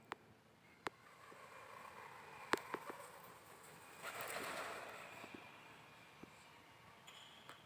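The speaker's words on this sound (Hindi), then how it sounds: "क्या है, नया पक्षी कबूतर।" Pigeons coo softly at a temple site in Vaishali, Bihar, heard as faint, distant murmurs under outdoor ambience punctuated by sharp clicks and knocks.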